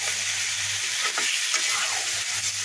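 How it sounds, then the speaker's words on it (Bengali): Meat and spices stir-fried in a pan over low heat, a steady close sizzle with a few soft scrapes of a spatula against the pan, no voices. "আমি এবার ভালোভাবে কষিয়ে নিয়ে ঢাকনাটা ঢেকে দেবো।"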